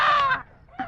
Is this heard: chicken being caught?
yes